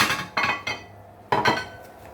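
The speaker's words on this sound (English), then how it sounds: "I'm just going to tip it into the casserole dish because it's ready for the oven" Spicy beef tomato sauce is tipped from a pan into a casserole dish, giving a few close, hard clinks and scrapes of cookware at uneven intervals with quiet gaps between and no talk.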